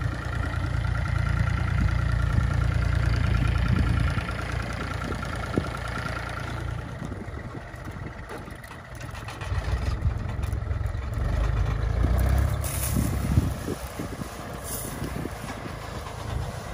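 A tractor fitted with small tyres drives through a maize field while spraying. Its engine keeps up a steady, close low drone the whole time, easing slightly in the middle and then building again, with no voices.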